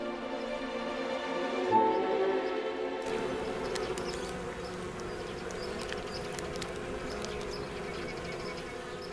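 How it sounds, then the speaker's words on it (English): Polistes gallicus paper wasps droning steadily in summer heat over a dried-out riverbed, a continuous close buzz that thickens after a few seconds with no voices. "The Gallica wasps now have to battle the heat."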